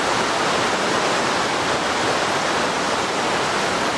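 The Genesee River rushes below an abandoned subway tunnel in Rochester, New York, a loud, steady broadband roar of flowing water with no breaks and no voices.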